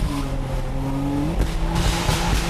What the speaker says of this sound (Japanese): 峠初のドリフト追走バトル